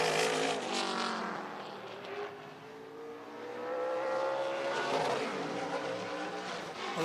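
A super late model race car laps Slinger Speedway, its engine roaring loud and rising and falling in pitch as it circles the track, with no voices.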